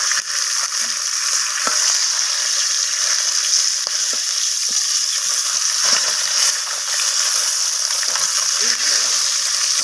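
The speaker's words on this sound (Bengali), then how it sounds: "তো আমি আর একবার মাছের মাথাটাকে খুন্তি দিয়ে উল্টে দিচ্ছি।" A fish head fries in oil and is flipped with a spatula, giving a loud, continuous close-up sizzle with faint scraping touches and no talking.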